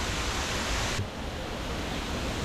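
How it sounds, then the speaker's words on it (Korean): A small garden waterfall at a temple near Ubud, Bali, gives a steady broadband rush of falling water, constant and fairly close, with no talk. "크진 않지만 이렇게 작은 폭포도 만날 수 있습니다."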